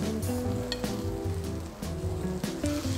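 Tomatoes sizzle in a GreenPan frying pan, a steady, close crackle that fills the whole stretch with no voices over it.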